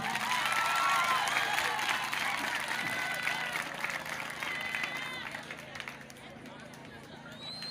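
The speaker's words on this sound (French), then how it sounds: "Applaudissez, mes amis." Crowd applause at a high school prize-giving ceremony fills the space, dense clapping that gradually fades over several seconds, with background chatter and a few shouts mixed in.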